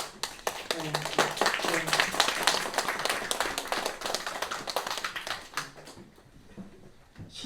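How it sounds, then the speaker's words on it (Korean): A church congregation claps in welcome for visiting elders during Sunday worship, a lively burst of many hands that tapers off after several seconds into a few scattered claps, with a voice faintly present underneath. "저희가 박수로 환영하도록 하겠습니다"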